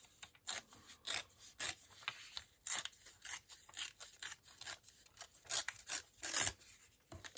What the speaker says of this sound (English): So I'll just carry on that rip and use this bottom half.